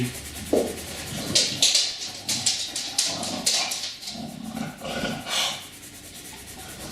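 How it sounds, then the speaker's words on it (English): A dog gnawing a big bone nearby, with irregular scraping, rubbing and crunching bursts and a few heavier clacks, fairly close and steady. "there's my dog in the background. He's just enjoying that big old bone."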